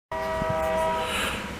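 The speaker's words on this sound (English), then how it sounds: "Let that train get through." A train passes near a workshop, its horn sounding loud and close as a sustained multi-tone blast over the rumble of the cars, beginning abruptly and holding through the clip.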